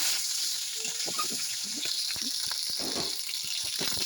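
Black mustard seeds and dried red chillies fry in hot oil in a wok, giving a steady close sizzle and hiss scattered with sharp popping crackles throughout.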